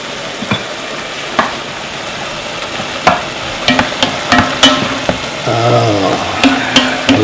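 White and purple onions fry in a pan with a soft, steady sizzle, broken by repeated sharp clacks and scrapes of a utensil stirring, swelling louder near the end.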